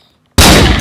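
A single loud, close gunshot fired at a target, cracking in sharply after a moment of near silence and ringing out to the end.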